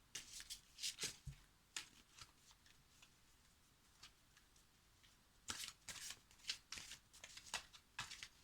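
Cards being shuffled for a tarot-style reading, with brisk riffling bursts in two clusters separated by quieter gaps and a few soft taps, close and clear with no talking.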